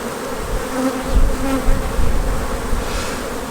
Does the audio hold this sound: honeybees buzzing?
yes